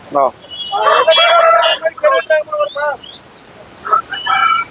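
A tall, long-necked rooster at a market crows loudly and close by, a long drawn-out call, followed by shorter clucks and another crow; no talking.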